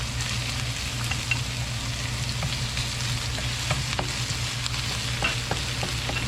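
Onion and garlic fry in a pan for Filipino beef pares, a steady close sizzle with occasional stirring clicks and no talking.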